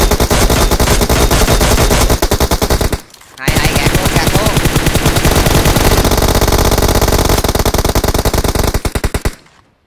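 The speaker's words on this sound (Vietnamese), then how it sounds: "nghe tiếng súng không?" Rapid machine-gun fire rattles almost nonstop in a PUBG Mobile match, loud and close, with one brief pause after about three seconds before the bursts resume, a player's short shouts mixed in.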